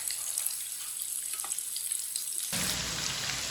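Chicken browning in a pan on both sides, a soft frying hiss that suddenly swells into a louder, dense sizzle partway through, with no talking.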